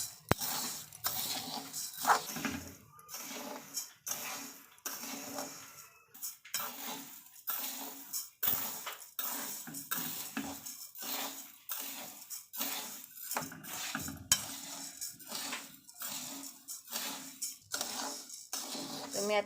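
Horse gram (kulith) roasting dry in a pan is stirred with a utensil, giving a run of repeated scraping and clinking strokes close up, steady and fairly loud, with no voice over it.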